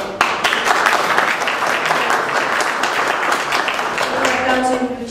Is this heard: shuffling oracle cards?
no